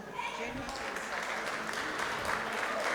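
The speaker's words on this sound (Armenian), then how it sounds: "ծափերը բարձր" Loud audience applause at a gathering, a dense, steady wash of clapping held throughout with voices mixed in.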